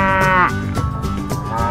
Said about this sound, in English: The Ankole Watusi calf.